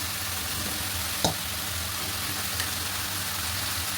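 Pieces of pre-fried fish, including tilapia, going into a pan of cooking curry, giving a steady low hiss and sizzle with one brief clatter of contact partway through.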